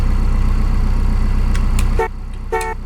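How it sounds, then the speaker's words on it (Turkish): A steady engine idle hums, then two short synthetic horn honks sound, the second a bit longer, from a 1993 Tofaş Doğan SLX in Euro Truck Simulator 2. "Bak kornası orijinal."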